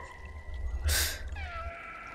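A cat meows in the video game Stray: one drawn-out, wavering meow at close range, followed by a softer descending mew, over a quiet hum of game ambience.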